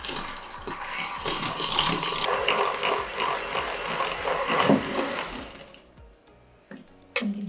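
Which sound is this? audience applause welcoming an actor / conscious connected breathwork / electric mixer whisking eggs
electric mixer whisking eggs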